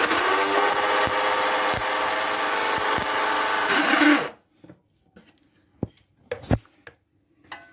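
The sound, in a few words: grinding sugar in a grinder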